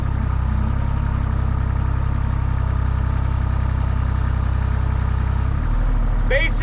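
A 6,000-pound diesel Chinese mini excavator idles close by with a steady, low, throbbing engine drone that drops slightly near the end, with a brief higher whine at the close.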